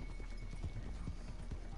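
A horse's hooves clip-clop in a video game, a faint, steady, rhythmic hoofbeat pattern under a low background hum.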